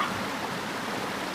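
Creek water flows in a continuous soft rushing wash, steady and fairly close, with no talk over it.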